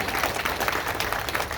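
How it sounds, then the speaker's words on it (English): Audience applause fills the room at a show for travelers from Germany, a dense steady wash of clapping throughout with no pauses. "How about an applause for our travelers from Germany?"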